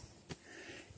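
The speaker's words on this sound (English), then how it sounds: "That's Sookie, my pet husky." A pet husky named Sookie sniffs in short, quiet bursts indoors, with one sharper snort near the start over a steady low background hiss.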